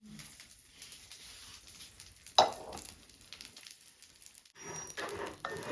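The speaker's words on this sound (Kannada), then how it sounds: "ಹಾಗೆ 2 ಕಣೆ ಬೇವಿನ ಸೊಪ್ಪು, ಅದನ್ನು ಹಾಕಿ ಒಂದ್ಸತಿ ಬಾಡಿಸ್ಬೇಕು" Curry leaves sauté in a hot pan, giving a soft sizzle and crackle with scattered pops and a sharp spatter near the middle, then a louder burst of frying toward the end.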